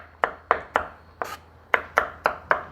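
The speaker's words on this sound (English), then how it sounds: "that's coarsely chopped" A knife chopping food coarsely on a wooden board, eight crisp, close thuds in a fairly even rhythm with a short pause midway, no voices.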